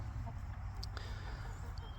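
Dual-purpose homestead chickens, including a large hatchery-type New Hampshire rooster, cluck faintly now and then at a distance over a steady low rumble of outdoor noise.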